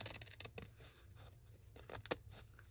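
Scissors cutting paper along an envelope fold, a few close, quiet snipping and scraping strokes in uneven bursts, no talking.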